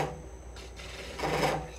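A lathe tool scrapes the leftover nub off a green wood bowl in a close, rough rasping that swells in two broad strokes, with a steady machine hum beneath and no speech.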